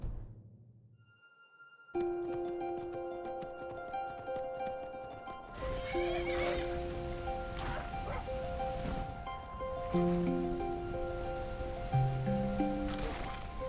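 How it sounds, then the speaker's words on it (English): An angry horse in the video game Skyrim neighs and whinnies repeatedly over a busy game soundscape with music, loud and close, following a short quiet start. "I accidentally made my horse angry."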